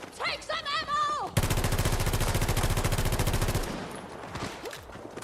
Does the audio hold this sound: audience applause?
no